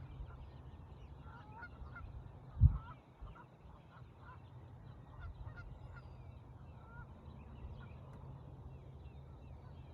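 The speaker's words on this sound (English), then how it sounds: "that one goose is over there just honking" Several geese honk repeatedly in the middle distance over a steady low rumble, with a brief louder thump partway through and no talking.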